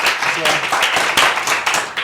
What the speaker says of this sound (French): qu'on peut applaudir sur ce plateau